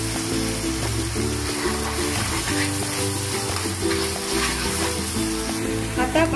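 Schezwan chutney with soy and red chili sauce sizzling loudly on a hot tawa for egg Maggi, a steady bubbling fry with clinking and stirring over continuous background music.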